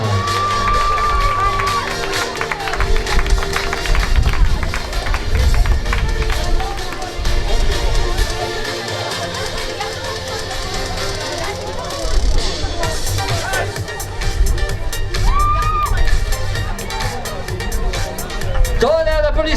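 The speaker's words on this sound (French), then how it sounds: "Tonnerre d'applaudissements, les minimes" A crowd at a triathlon award ceremony applauds and cheers in a steady, dense wash of clapping and voices, while an announcer speaks over a loudspeaker.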